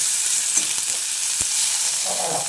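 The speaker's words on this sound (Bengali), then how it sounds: "পেঁয়াজটাকে দিয়ে রসুনের সঙ্গে আরও কিছুক্ষণ ভেজে নিতে হবে।" Chopped onion frying with garlic in a pan, a loud close sizzle broken by several sharp stirring scrapes and taps.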